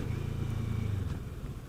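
Kawasaki Z650 motorcycle being ridden on a road test, a steady low engine drone with faint wind noise, holding an even note for the whole short stretch with a slight easing near the end.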